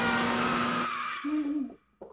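A car driving in the video game Super Mario 3D World, heard as a loud synthetic engine drone that cuts off abruptly, followed by short tonal game sound effects and then quiet.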